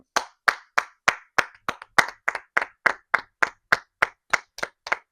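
Crisp, evenly spaced hand claps, about fourteen in five seconds, close and dry like one person applauding the Carolina Panthers for reaching the playoffs; steady rhythm, no voices.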